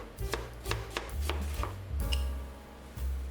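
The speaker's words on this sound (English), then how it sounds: "Slice one yellow onion." Knife slicing a yellow onion on a cutting board, with a steady run of close, crisp chops, about ten strokes in quick succession, and no talk.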